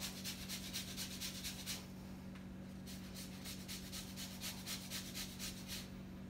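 A lemon is zested on a grater in quick rhythmic rasping strokes, close and fairly soft, in two bursts separated by a short pause.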